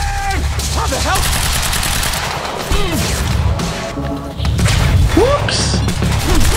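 Rapid gunfire bursts and heavy impacts from the video game Quantum Break, loud and dense throughout, with a voice talking over the action.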